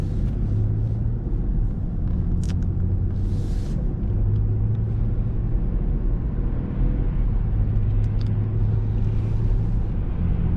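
Inside a 2019 BMW 740i xDrive sedan on the road, a steady low rumble of tire and road noise hums on evenly throughout, with faint wind hiss and no talking.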